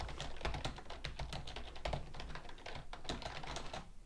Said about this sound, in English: so I'll just type normally